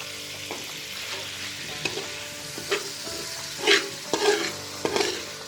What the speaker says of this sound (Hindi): इनको देसी घी के साथ हमें अच्छी तरीके से फ्राई करना है